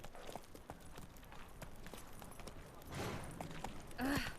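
Horse hoofbeats galloping at a quick steady clip in The Witcher 3, fairly faint, with a short sharp sound near the end.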